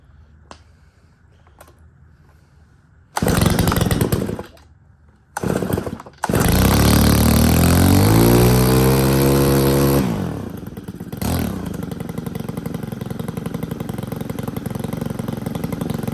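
A 4-MIX engine on a string trimmer or leaf blower is pulled and fires, sputters briefly, then revs loudly before settling into a steady, quieter idle, close by and without talking.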